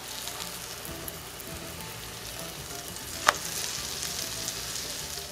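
Crispy fries drop into hot frying oil, giving a steady, fairly quiet sizzle with one brief sharp crackle partway through.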